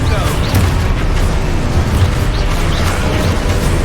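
Spell explosion from a Harry Potter video game, a continuous loud rumbling boom with crackling bursts that sits close and dense through the whole stretch, with no clean gaps.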